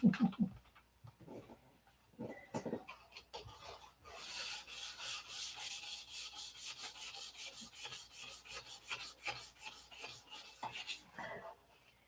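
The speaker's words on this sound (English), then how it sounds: "I just sit down and start sanding" A board is sanded by hand in long, rhythmic rasping strokes, quiet at first and then steady and close, each pass repeating at an even pace.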